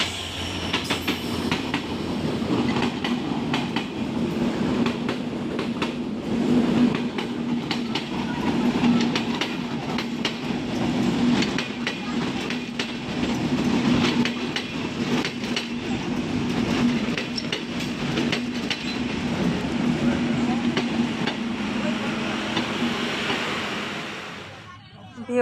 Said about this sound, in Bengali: আর এদিকে এই যে ট্রেন চলে আসতেছে